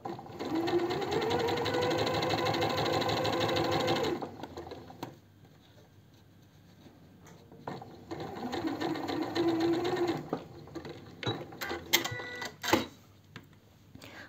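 A sewing machine stitches a silk blouse in two close, steady whirring runs, the first lasting about four seconds and the second somewhat shorter, separated by a quiet pause and followed by scattered clicks and handling taps.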